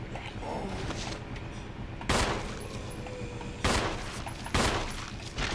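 Repeated gunfire in the Resident Evil video game, with sharp loud shots breaking out over a dense ongoing barrage of game combat noise.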